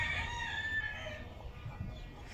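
Gamecocks bred as fast, compact fighting roosters crow at a farm in the State of Mexico, a drawn-out rising call heard at moderate distance over steady low background noise.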